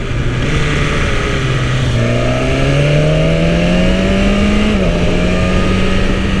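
A 2020 BMW S1000RR M motorcycle engine runs steadily, its tone sliding through the revs, with a brief drop near the end as it shifts down, set against loud continuous wind roar from riding at speed.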